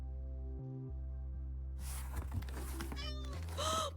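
A cat meows in a video game over a steady low electronic hum, with a short burst of rustling sounds and then a clear rising meow near the end.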